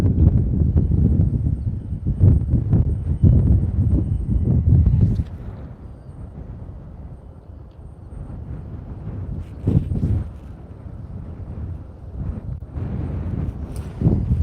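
Strong gusts buffet the microphone at SpaceX Starbase in Boca Chica, Texas, as severe weather moves in, loud rumbling wind for the first few seconds, then dropping to a softer, unsteady roar with sporadic bursts.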